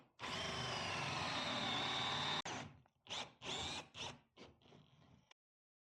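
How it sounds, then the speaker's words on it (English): A power drill bores a hole inside an existing hole in wood for wooden Lego-style blocks, a loud continuous whine for about two seconds, then several short bursts of drilling before it stops, close up with no talk. "now you're going to drill out another hole inside of your hole"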